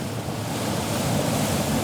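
Ocean waves and surf under howling wind, a loud continuous roar of rushing water and gusts with heavy wind buffeting on the microphone.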